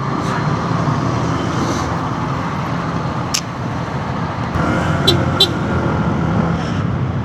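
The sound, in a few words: road traffic noise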